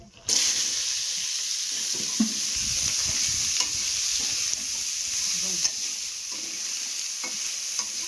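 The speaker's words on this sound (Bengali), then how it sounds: "আর দেখো আমার মেয়ে ভাজছে কুমড়ো" Pumpkin pieces frying in a pan with a little oil and black cumin, giving a steady close sizzle with occasional scraping stirs throughout.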